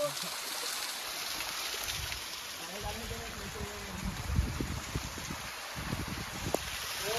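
A waterfall on the Bhimashankar trek gives off a constant, dense rush of falling water, loud and close, with people talking and shouting under the roar.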